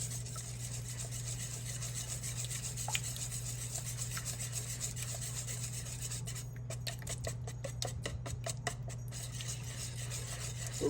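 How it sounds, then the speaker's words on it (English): Gingerbread cupcake batter is whisked by hand in a bowl, giving faint, rapid scraping and rubbing strokes over a low steady hum, with a brisker burst of strokes partway through. "So just mix this all together. Whisk it in."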